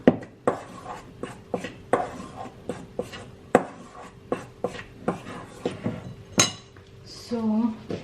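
Cornstarch and flour are stirred together in a bowl with a utensil, producing a rhythmic series of sharp clinks and knocks against the bowl, with a brief voice near the end.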